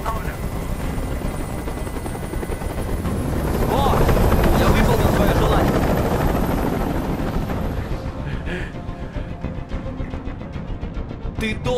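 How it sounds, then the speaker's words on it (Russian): A helicopter hovers in the Detroit: Become Human video game, a loud continuous rotor roar with throbbing low thump that swells mid-stretch then eases, while voices talk over it. "Прикажи им, чтобы вертолет убрался!"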